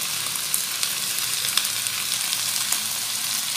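Spices frying in a pan, among them coriander and crushed cumin, giving a steady loud sizzle with small pops and crackles throughout and no voices.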